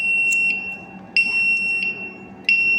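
Piezo buzzer set off by an Arduino ultrasonic distance sensor, giving a steady high electronic tone that cuts out and restarts in short repeating bursts, with a constant low hum underneath and no talking.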